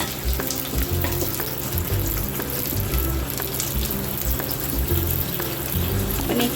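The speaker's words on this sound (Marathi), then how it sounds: "चांगले तळून घ्यायचे आपल्याला व्हेजिटेबल" Mixed vegetables (green beans, carrot, cauliflower, field beans and ivy gourd) frying in oil for a soybean veg biryani, a dense close sizzle with intermittent stirring scrapes, loud and steady throughout without talk.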